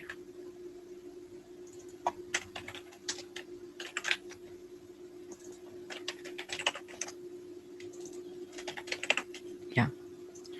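Computer keyboard typing while writing login code for a Java and Python course management system: irregular bursts of close, crisp key clicks over a steady low hum, with short pauses between runs.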